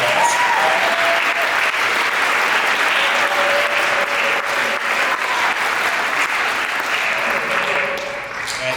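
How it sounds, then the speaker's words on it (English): Students at a winter and spring sports awards ceremony give a sustained round of applause, dense and even clapping from a large crowd that holds for several seconds before tapering slightly at the end. "Students, give them a round of applause."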